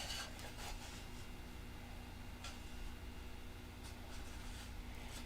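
Continuous dry rasping of a modified sanding stick cutting a slot in foam for a lost-foam wing, steady strokes with a few sharper scrapes, close up.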